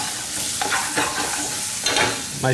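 Ramp tops and tarragon sauté in butter in a pan, a steady close sizzle broken by a few sharp scraping stirs of a utensil, with no voices.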